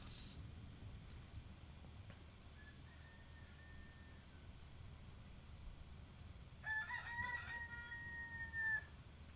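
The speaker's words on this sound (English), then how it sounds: "So I have a lot of roosters around me, and also hens, chickens." Roosters crow at a distance among hens and chickens, one faint call early and a clearer, longer cock-a-doodle-doo near the end over quiet outdoor background.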